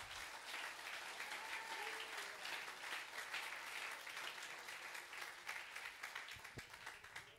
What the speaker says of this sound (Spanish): Déselo fuerte el aplauso, si se lo va a dar.